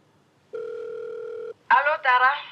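A phone rings with an incoming video call: one steady electronic tone lasting about a second, then a brief gap and a warbling, chirpy ringtone burst, loud and close.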